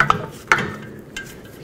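A parking brake adjuster on a 1997-2003 Ford F-150 clicks as it is twisted, giving a few sharp, close metallic ratchet ticks with quiet pauses between them.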